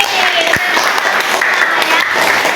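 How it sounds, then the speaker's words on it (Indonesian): Classroom applause at a school break for a student named Evi, dense steady clapping from a group of pupils filling the whole moment, with faint voices mixed in. "Tepuk tangan untuk Evi."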